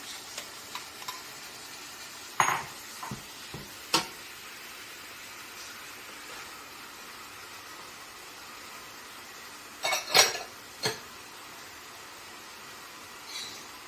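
Shrimp and vegetables for pancit sizzle softly in a pan over a steady hiss, broken by a few sharp clacks and scrapes of stirring, heard close with no talking.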